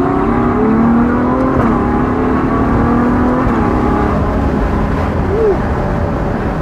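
A Ferrari GTC4 Lusso accelerating hard, its engine note rising and shifting in a loud, close, continuous drone heard from inside the cabin, with no speech over it.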